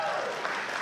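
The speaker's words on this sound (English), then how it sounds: "Can you just give yourself a really big hand clap?" Applause from faith leaders seated at an interfaith conference, a brief wash of many hands clapping at steady, moderate loudness.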